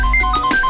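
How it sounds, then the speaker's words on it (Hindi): An incoming-call ringtone on a phone in a home, set in an Indian TV drama: a steady electronic melody of repeating tones, close and clear, with no voices over it. "लीजिए, खुद पापा का फोन आ गया है"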